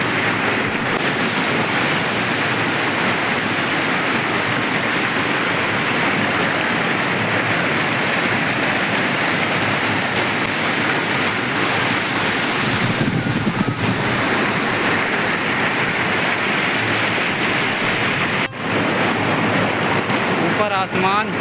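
Loud, steady rushing of a river swollen after a flood fills the scene continuously, with wind buffeting the microphone and occasional voices underneath.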